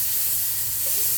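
Bread for a croque madame grills in melted butter in a pan, giving off a steady, close hiss of sizzling fat that holds at an even level with no talking.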